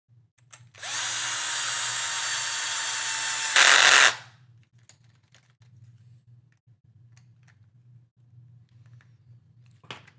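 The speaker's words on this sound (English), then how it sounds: "We'll put these 3 screws in." A power drill drives screws into a DR10 build part, one loud steady whir lasting about three seconds that rises in pitch briefly before cutting off, then near silence with a low hum.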